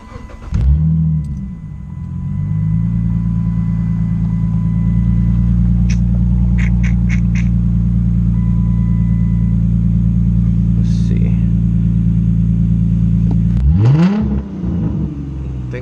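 Engine of a 300 car idling steadily after repair of a bad injector, loud and close. It starts with a brief rev, settles into a constant low rumble, and ends with another rev near the close.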